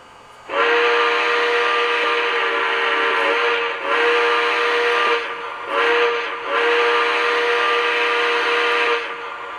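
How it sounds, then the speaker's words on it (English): Lionel model steam engine whistle with the steam smoke effect, a loud chime whistle blown in three or four sustained blasts with brief gaps, carrying a hissy steam texture and no voices. "Here's the whistle steam smoke effect."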